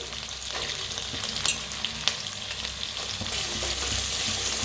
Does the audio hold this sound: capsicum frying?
yes